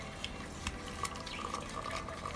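A tap runs in a steady rushing stream while a makeup brush is rinsed under it, with a few small splashes and drips over the flow, close by and with no voices.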